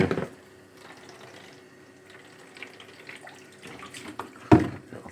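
A little water is swirled around in a pot before milk is heated, heard as faint, low sloshing and trickling, with a brief louder splash or knock near the start and again near the end.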